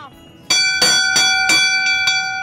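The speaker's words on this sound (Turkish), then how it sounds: "Çanı çalıyorsunuz, sefer başlıyor." Ferry bell rung to start the voyage on a Turkish commuter ferry: five or six bright metallic clangs in quick succession, close and loud, each ringing briefly over a low background hum.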